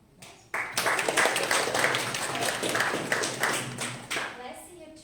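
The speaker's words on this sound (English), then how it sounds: "You can have a round of applause." A crowd applauds steadily for several seconds, a dense wash of clapping that swells and then tapers off.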